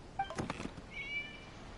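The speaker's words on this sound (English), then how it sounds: "It was just a cat." A cat in the video game Genshin Impact gives a single short meow, clear against quiet background.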